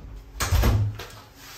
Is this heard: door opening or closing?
yes